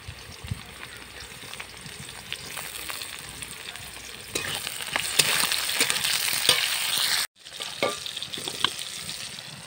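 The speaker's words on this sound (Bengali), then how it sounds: "তেলের মধ্যে দিয়েছি পেঁয়াজ কুচি। পেঁয়াজ কুচিটা একটু দিয়ে নেড়ে ছেড়ে নেব।" Chopped onion and tomato fry in hot oil in a village kitchen for a taro and fish curry, a steady close sizzle with scraping stirs that drops to a brief hush near the end before resuming.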